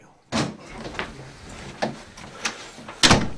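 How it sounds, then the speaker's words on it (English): Door handling on a film set, with a firm thump as a door is shut, then several lighter knocks and rattles, ending in a sharper bang, all close by and heard against a quiet room. "I'm going to shut the door first."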